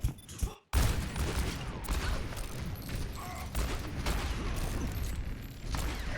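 Gunfire in a team shooter video game, a continuous, busy stream of overlapping shots and mechanical clatter after a sharp opening blast and brief dropout.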